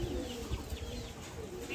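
Madrasi pigeons cooing close by, soft low coos rising over a steady murmur with a few faint chirps, no voices.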